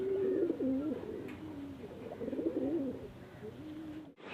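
Chennai breed pigeons coo inside a loft: soft, low, rolling coos repeat in overlapping phrases, fairly close but quiet, with no talking.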